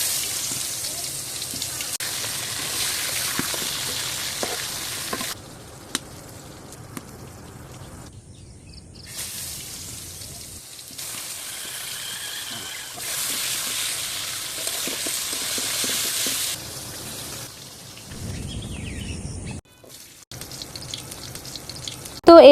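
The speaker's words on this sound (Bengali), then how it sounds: "এখন এক এক করে শুকনা মরিচ, বেগুন, টমেটো সবকিছু ভালো করে ভেজে নেবে।" Dried chilies, eggplant and tomato fry over a village clay stove, giving a steady, moderate sizzle with crackling bursts that comes and goes in sections.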